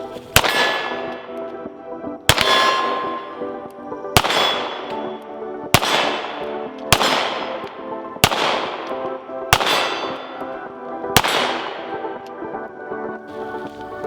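Springfield Armory SA-35 pistol fired at a steel target: eight sharp, loud shots spaced a second or two apart, each followed by a bright ringing clang of struck steel that decays before the next.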